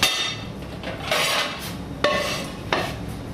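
Two ceramic plates set down on a kitchen counter while making pizza, giving sharp clinks near 2.0 and 2.7 seconds after some earlier clattering and rubbing of dishes, close and clear with no talk.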